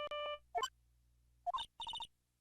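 A cell phone ringtone from the game Phoenix Wright: Ace Attorney: short electronic melodic phrases in bursts, a sustained tone, then a quick run of repeated beeps, clear and fairly loud with no talking.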